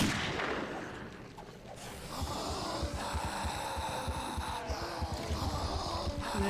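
An explosion in the video game 7 Days To Die, a zombie blowing up outside a remodeled base, heard as dull low booms and rumbling among continuous noisy game sounds, fairly loud and steady throughout.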